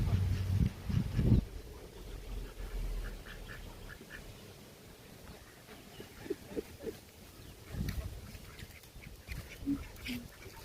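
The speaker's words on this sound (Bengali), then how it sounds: "ওই দেখেন আমার পিছনে হাঁস প্যাক প্যাক প্যাক প্যাক করে" Ducks quack in scattered, fairly close calls outdoors among the flock, over a low rumbling background with some handling bumps near the start.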